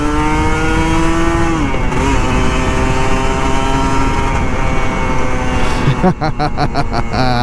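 Kawasaki Ninja RR 150 two-stroke motorcycle in Jakarta traffic, a loud close engine whine that climbs steadily in pitch under hard acceleration, then breaks into choppy bursts as the rider shifts or backs off.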